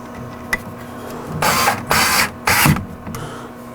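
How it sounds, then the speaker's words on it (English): A power screwdriver drives the last screw into a Creality K1C 3D printer during assembly, heard as three loud close whirring bursts of about half a second each, set apart by brief pauses and light handling clicks. "Let me just put this last screw in first."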